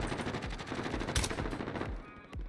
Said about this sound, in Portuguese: Tem alguém na esquerda atirando neles, velho.